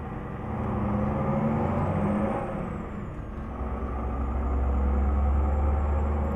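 A DAF XF 510 truck in Euro Truck Simulator 2 drones with a deep, steady engine rumble that swells and eases slightly while cruising, without any voices.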